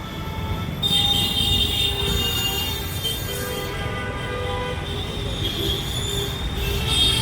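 An electric commuter train in India rumbles past steadily up close, wheels squealing with long high metallic whines over the continuous roar of the cars.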